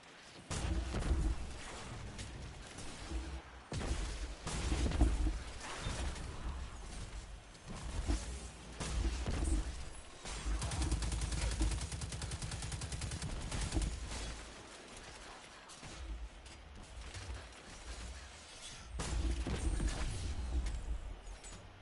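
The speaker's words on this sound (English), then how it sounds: "I love this grenade launcher." A grenade launcher fires in Destiny during a fight with a pack of charging exploders. Loud shots and blasts come in repeated irregular bursts over a constant roar of combat.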